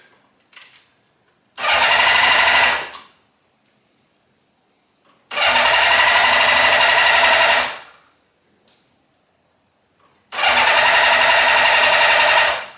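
A 1978 Honda CB550K motorcycle engine on full choke barks into three loud, rough bursts of about a second each, cutting out to near silence between attempts.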